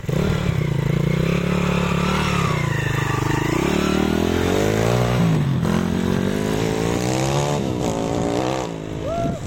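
A YCF dirt bike fitted with a Keihin PE 28 carburetor runs on a dirt path, its engine note rising and falling in a loud, continuous drone that swells and settles as it rides.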